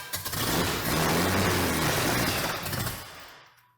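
A carburetor-fed car engine fires up in a garage and revs hard, a loud, dense roar that holds for about three seconds before dropping away abruptly to silence.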